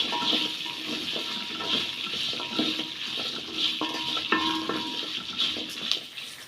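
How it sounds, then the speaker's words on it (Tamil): Onions and dried red chilies being stirred and sautéed in a pan for a spicy gravy, with a steady sizzle under repeated scraping and clinking of a spoon against the metal pan. "இப்போ எல்லாத்தையும் சேர்த்து நல்லா வந்து வதக்கி விட்டுடலாம்"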